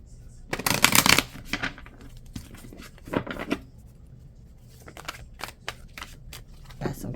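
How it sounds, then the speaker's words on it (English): Tarot cards shuffled and flipped over during a reading, a loud riffling burst followed by softer shuffles and a scattering of light papery flicks and taps, close to the microphone. "Got some cards flipping over."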